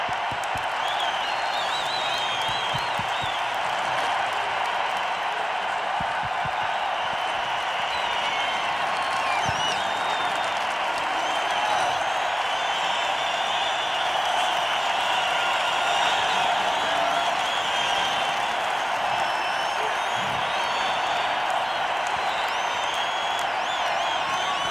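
A large audience at a concert applauds long and steadily, a dense wash of clapping with scattered whoops and cheers, sustained and even in loudness throughout.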